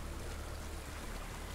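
Steady rushing flow of water, like a stream or small waterfall, in the dark fantasy game Hellblade: Senua's Sacrifice, a continuous broadband wash filling the short stretch with no voices.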